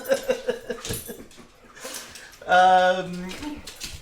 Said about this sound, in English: you can hear the dog just jumping all over our guests